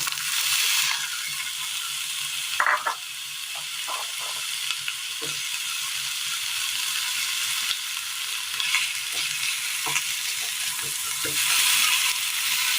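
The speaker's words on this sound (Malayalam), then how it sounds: "എന്നിട്ട് ലൈറ്റായിട്ട് നമുക്കൊന്ന് ഫ്രൈ ചെയ്തെടുക്കാം" Brinjal frying lightly in oil in a pan for a curry gives a steady, bright sizzle throughout, broken now and then by soft scrapes and knocks from stirring.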